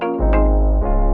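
A short marimba chord hit sounds together with a deep, sustained bass note in an Afrobeat production, two quick stabs over a booming low tone, loud and close with no talk.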